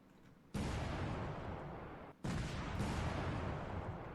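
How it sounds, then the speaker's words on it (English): Bombs from an air strike in the warfare simulation Command: Modern Operations land as two heavy, sudden blasts, each swelling into a long rumbling roar that lingers loudly, the second following about a second and a half after the first. "Look at that bombing run."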